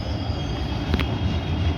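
A Kolkata Metro Blue Line train makes a U-turn near Garia, a steady close rumble of wheels and carriages that runs without a break, with a brief brighter screech near the middle.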